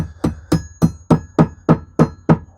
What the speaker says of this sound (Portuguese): Improvisemos um martelo aqui.